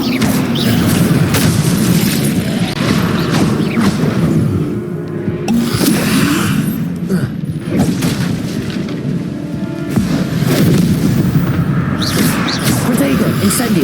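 A Hogwarts Legacy fire spell, Incendio, goes off amid a busy battle against zombies, with booming bursts and crackling blasts repeating over dense combat noise and spoken voices.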